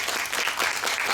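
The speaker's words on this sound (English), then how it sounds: "please give another big round of applause to the Professor Maeng, for his nice talk" Audience applause after Professor Maeng's invited talk on language analysis in science education, a full, even patter of many hands that holds steady throughout.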